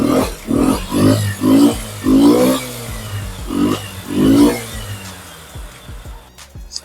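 A Vespa LX 3V scooter engine running close by, revving in a series of loud surging bursts that rise and fall, then settling to a quieter idle with faint clicks near the end.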